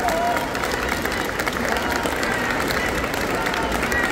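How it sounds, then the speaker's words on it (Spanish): Loud, dense applause from a conference audience greets guest speaker Yohanan Díaz at a talk on UFOs in Tamaulipas, sustained without pause throughout. "Pues escuchen fuerte el aplauso, por favor, para nuestro invitado Johanan."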